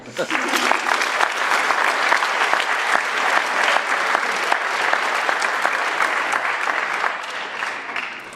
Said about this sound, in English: I would like to have a round of applause for all the students sitting here.